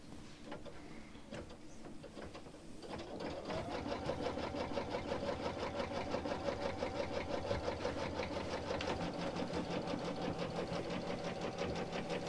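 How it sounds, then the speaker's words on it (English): An embroidery sewing machine stitches a tack-down placement line, starting with quieter handling sounds, then settling into a steady, fast, close mechanical stitching rhythm that runs continuously. "So our next stitch is just this placement line, or the tack down line, so we'll go ahead and sew that one out."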